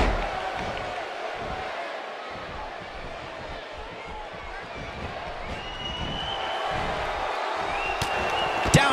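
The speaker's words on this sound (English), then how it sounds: "I don't think I've heard a Toronto crowd this loud since we were in the Dome for WrestleMania 18." Virtual arena crowd in the WWE 2K18 wrestling video game, set in Toronto, roaring continuously throughout as a loud, dense wash of cheering under a commentator's talk, with a few sharp impacts near the end.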